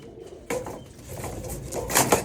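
A male Teddy bloodline pigeon cooing in a breeder's loft, a few close throaty coos rising in loudness over two seconds amid soft rustling.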